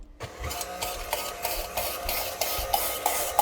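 Stainless steel slicer shredder attachment cutting through potatoes, a steady rasping, whirring grind with repeated rhythmic scraping bursts, close and fairly loud throughout.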